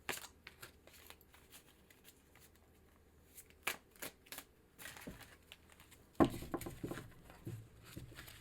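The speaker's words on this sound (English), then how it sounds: "I'm just going to shuffle a little bit off camera" Tarot cards are shuffled close by, with soft sporadic riffles and taps in a quiet room, then a louder, busier burst of shuffling toward the end.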